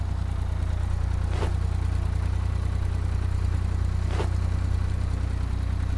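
Loud car engine idling in the video game Apocalypse Rising, a steady low drone throughout with two brief whooshing sweeps passing over it.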